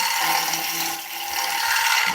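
A gouge making a pull cut on a chunky oak fruit bowl spinning on a woodturning lathe gives a continuous close hiss of cutting over a steady motor hum, swelling and easing slightly, with no talking.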